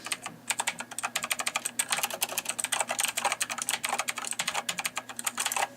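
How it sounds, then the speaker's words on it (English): Rapid, clicky mechanical keyboard typing on Cherry blue switches, crisp and close, keys pattering in a steady uneven stream without pause. "this is a mechanical keyboard with cherry blue switches"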